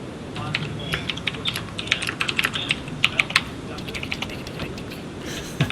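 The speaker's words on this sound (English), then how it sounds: "this is a professional gaming keyboard. It's going to be mechanical and clackety clackety." Keys clack steadily on a mechanical gaming keyboard, a brisk, uneven patter of crisp clicks heard up close with a few louder strokes, continuing throughout with no voices.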